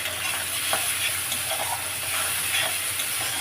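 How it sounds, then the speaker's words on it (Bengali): Spice paste with turmeric and salt for a rohu fish curry, stir-fried in hot oil, gives a steady broadband sizzle with a few scraping strokes of the spatula, close and fairly loud, with no talking. "মশলাটা ভালো করে কষে নেব"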